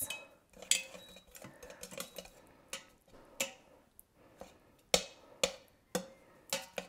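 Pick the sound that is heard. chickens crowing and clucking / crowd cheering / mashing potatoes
mashing potatoes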